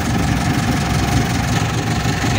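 A car engine idles steadily and loudly during an alternator charging test, a continuous close hum with no talk over it.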